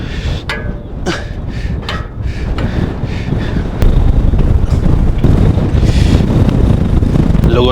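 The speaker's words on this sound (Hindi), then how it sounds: "जबरदस्त हवा चल रहा है ऊपर, ऐसा हवा में टेंट पिच करना तो इम्पॉसिबल है" Strong wind blasts across the summit of Kalsubai, the highest peak in Maharashtra. The roar is loud and continuous with heavy buffeting on the microphone, and it strengthens partway through, with gusts flapping and rattling nearby.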